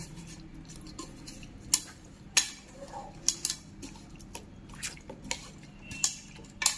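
Marinated chicken pieces being mixed in a bowl make soft, wet squishing with scattered sharp clinks of a utensil against the bowl, quiet and close, with irregular taps every half second or so.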